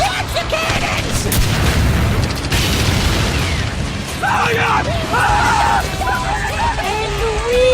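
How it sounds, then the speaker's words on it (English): Cannons boom repeatedly in an SMG4 Mario cartoon, with loud blasts and bursts mixed with yelling and whooping voices and music-like tones over a busy, dense background. "Watch the cannons!"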